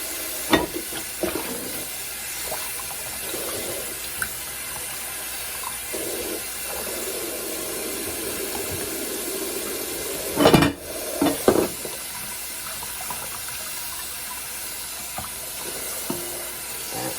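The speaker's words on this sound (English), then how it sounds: "Now we're going to rinse these dishes." Dishes rinsed under running water in a small kitchen sink: a steady, close hiss of flowing water with occasional clatters and a louder splash of plates near the middle, no talking.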